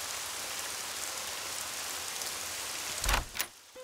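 Steady rain falls, a dense hiss of drops on surfaces that runs throughout, followed by a couple of brief louder thumps near the end.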